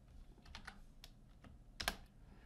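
Someone types code on a computer keyboard during a PHP and HTML programming lesson, with soft, scattered keystrokes and a sharper burst of clicks near the end.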